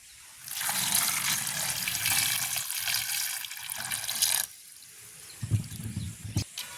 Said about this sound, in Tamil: நாங்களுமே மோதவள்ளி கிழங்கு வடையை தண்ணி ஊற்றி கழுவி எடுப்போம்.